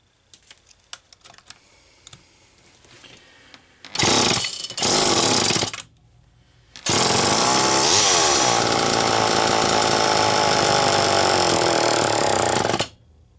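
A Homelite Super EZ chainsaw with a suspected carburetor fault roars loudly in two bursts, a brief run that cuts out and then a longer high-revving run that stops abruptly, with quiet clicking before it.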